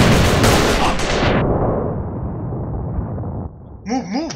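In a shooter video game, a loud grenade blast and gunfire erupt together, then roll into a long decaying rumble that fades out, after which a voice speaks.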